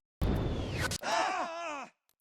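In Arma Reforger, a brief low mortar blast is followed by a character's strained, wavering cry of pain that rises and falls before cutting off.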